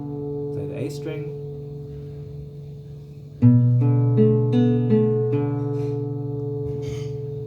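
Single guitar notes ring out sustained and close, first a softer held tone, then a stronger plucked note with a short lick of changing pitches on top; a voice speaks briefly near the start.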